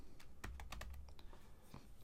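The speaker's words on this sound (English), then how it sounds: "if you select Shift and Enter on your keyboard, that will run the cell" Keys clatter on a computer keyboard, a quick run of light plastic taps in close succession, soft and near in a quiet room.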